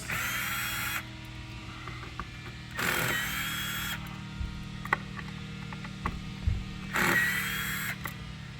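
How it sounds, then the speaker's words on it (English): A power driver spinning out four T30 Torx screws from a Mercedes M256 engine ECU cover, several whirring bursts of a few seconds each, close and fairly loud, separated by small clicks and handling noises. "Remove the 4 T30 Torx."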